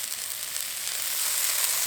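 Spiced boiled potato and carrot kachori filling with tomato and chopped coriander sizzles and fries in a pan as it is stirred, a steady close hiss that swells slightly toward the end.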